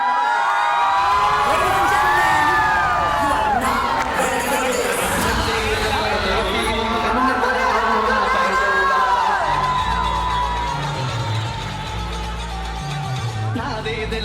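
A large audience at an Indore meetup for bank exam students cheers and whoops to welcome a speaker. The loud crowd noise mixes with shouts and voices, then settles into ongoing hubbub.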